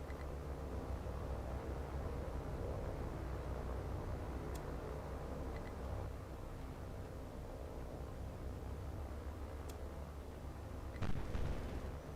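A continuous dense rumble of combat in War on the Sea as aircraft strafe a battleship with 20mm cannons, steady and heavy throughout with a few sharp cracks and a brief louder burst near the end, no talking.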